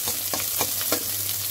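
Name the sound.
chopped onion frying in oil in a pan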